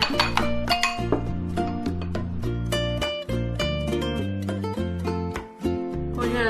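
Eggs mixed with soy sauce are whisked in a bowl, a quick run of close, rhythmic clinks and taps of utensil against the bowl, with no voices.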